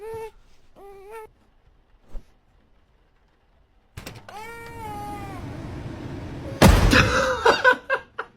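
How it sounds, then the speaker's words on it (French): A cat gives several short, clear meows, two close together and then a string of higher, drawn-out cries, ending under a sudden loud burst of noise and rustling. "Chat."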